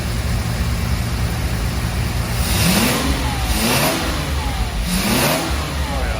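A Jaguar E-Type V12 engine revved repeatedly, three rising bursts of throttle over a steady rumbling idle, loud and close with no voices.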